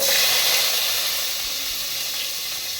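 Coconut, green chili, garlic and curry leaves sizzle in a hot pan, a loud steady hiss and crackle of frying oil close by that eases slightly over a few seconds, with no talking.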